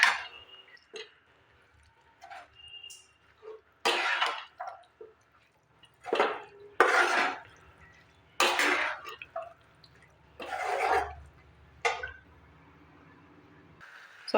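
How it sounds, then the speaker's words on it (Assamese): Banana flower curry vegetables being stirred with spices in a pan, heard as a series of separate scraping, squishing strokes spaced a second or two apart, close and moderately loud over a low background hum. "ইয়াতে লৰাই ল'ম"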